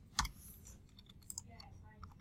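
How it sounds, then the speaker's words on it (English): A computer mouse and keyboard click a few times, faint and sparse, during a quiet 3D poly-modeling session at a computer, with a couple of sharper clicks standing out against low room noise. "I can hear clicking."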